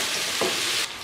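Mutton fries with onion and ginger-garlic paste for white mutton karahi, a loud close sizzle with one stirring scrape midway, then it drops off abruptly near the end.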